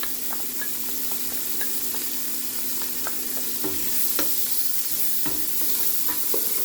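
Chopped onion fries in a hot pan with a steady, crackling sizzle, and a utensil scrapes and stirs through it at intervals, close by and without talk.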